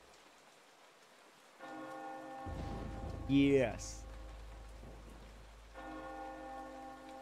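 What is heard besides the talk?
bell ringing in rain, from the video game Eternal Darkness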